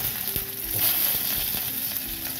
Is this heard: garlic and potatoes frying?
yes